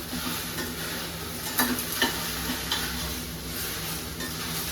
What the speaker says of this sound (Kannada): ಸೊ ಇದು ಚೆನ್ನಾಗಿ ಲೋಳಿ ಹೋಗೋ ತನಕ ಹುರಿಬೇಕು